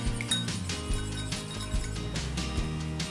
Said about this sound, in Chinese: 然后搅拌均匀。